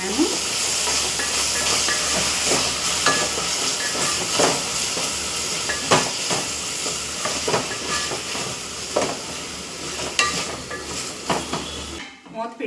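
Masala paste ground with cinnamon fries in a pan for a fish curry, giving a loud steady hiss broken by scattered crackles and scraping stirs before it cuts off abruptly.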